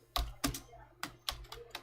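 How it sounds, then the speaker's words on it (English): Keys tapped on a computer keyboard, a handful of distinct clicks at an uneven pace, close and fairly quiet. "So for that I will type sudo"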